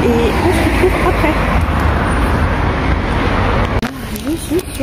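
Steady road traffic with cars passing on a city street on the way to a train station, a constant roar right under someone talking.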